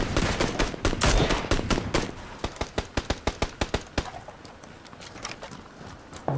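Gunshots fire in a video game as rapid bursts of sharp cracks, dense at first and then thinning into a quicker, lighter sequence of distinct shots.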